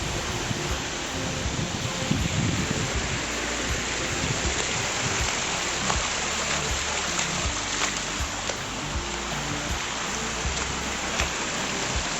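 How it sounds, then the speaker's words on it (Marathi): Heavy monsoon rainwater streams down from Vishalgad fort as a dense, constant wash of rushing water and rain noise, steady and enveloping throughout, with no clear voices. "गडावर एवढा पाऊस पडला आहे नुसतं पाणी झालं गडावरनं खाली नुसतं पाणी"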